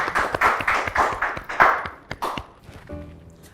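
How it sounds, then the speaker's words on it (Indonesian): Scattered hand claps from a studio audience on an Indonesian talk show, a short ragged round of applause that thins out and fades after a couple of seconds. "Beri tepuk tangan dong"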